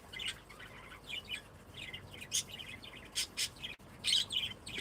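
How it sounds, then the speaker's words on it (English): Birds at a pheasantry with peafowl, ducks, pheasants, doves and parakeets chirp and tweet in short, scattered bursts over a quiet background, with a squawk here and there. "the vocalization that happens out here between all the birds, the peafowl, the ducks, and the pheasants"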